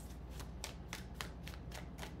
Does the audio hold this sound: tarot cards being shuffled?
yes